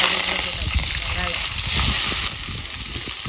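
Mustard seeds frying in hot oil, a steady hiss with scattered crackles and pops, loud and close, while people talk.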